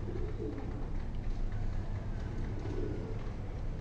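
Pigeons, including a satin pigeon, coo softly in a continuous low murmur over steady background noise.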